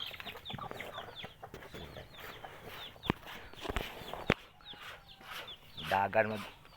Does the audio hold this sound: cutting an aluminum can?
no